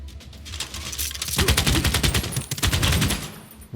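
Unit gunfire from the video game Civilization 6, a rapid rattling burst of overlapping shots in a dense volley, loud and continuous for a few seconds with no talk over it.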